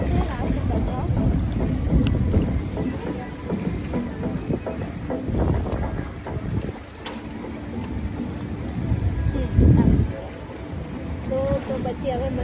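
Cool wind blows across a hotel swimming pool, a steady, loud rush with gusty buffeting against the microphone, and a voice speaks faintly underneath.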